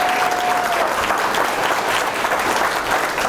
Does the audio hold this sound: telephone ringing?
no